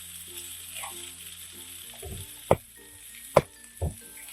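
Chicken fried rice with melting butter is stirred in a pan, giving a faint sizzle with a few sharp utensil knocks and scrapes against the pan near the end amid a quiet background hum.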